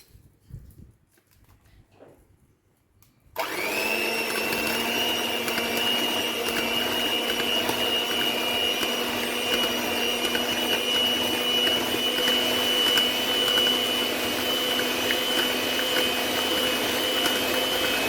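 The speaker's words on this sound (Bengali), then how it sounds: "তো আমি এবারে ইলেকট্রিক ব্লেন্ডারে এটাকে একটু ব্লেন্ড করে দেখিয়ে দিচ্ছি।" An electric blender whirs steadily while blending a homemade vanilla ice cream mixture, starting abruptly after a quiet moment and running loud and continuous to the end.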